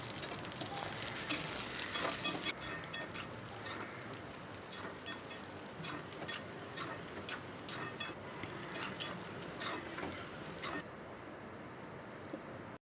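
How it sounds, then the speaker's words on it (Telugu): Bitter gourd pieces frying in hot oil make a continuous, fairly quiet sizzle and crackle with scattered sharper pops, holding steady throughout. "కాకరకాయ ముక్కలు వేసి వేపుకోవాలి."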